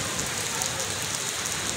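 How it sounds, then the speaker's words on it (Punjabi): Steady rain falls on a farm village in Azad Kashmir with the wheat ready for harvest, a dense even hiss with no let-up and no voices. "ਅਤੇ ਬਾਰਿਸ਼ ਹੋ ਰਹੀ ਹੈ, 2-3 ਦਿਨ ਹੋ ਗਏ ਨੇ ਵੱਖਰੇ ਵੱਖਰੇ ਨਾਲ"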